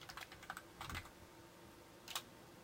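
Quiet keystrokes tap on a computer keyboard in a few short clusters, soft and close with pauses between bursts and no talking.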